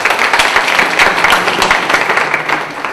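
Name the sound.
applause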